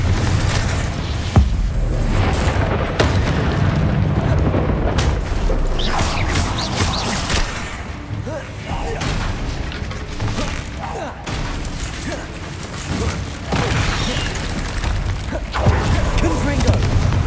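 The Bombarda and Confringo spells in the Hogwarts Legacy video game set off loud, repeated booming explosions over a dense bed of game sound, continuing without pause.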